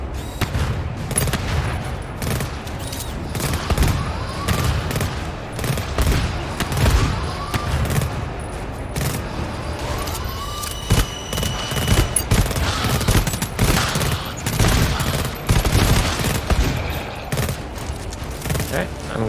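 Burst sentry turrets fire in a video game, with dense rapid bursts of gunfire repeating throughout alongside other game effects, while a voice talks intermittently underneath.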